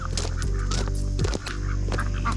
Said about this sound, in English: How do you count moving ducks?